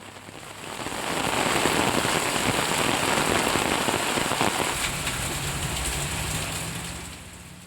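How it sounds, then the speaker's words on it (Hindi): Heavy monsoon-season rain pours steadily in Ambikapur, Chhattisgarh, a dense continuous hiss of drops hitting surfaces that swells in quickly and holds loud and even throughout with no voices. "और अंबिकापुर में भी झमाझम बारिश का दौर जारी है।"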